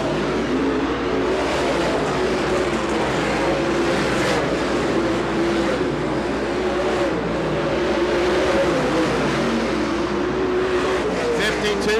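Late model race cars in the A Main of the Keystone Cup roar steadily around the track, engines droning continuously at close range with a crowd-like wash, while a commentator talks over the racing throughout.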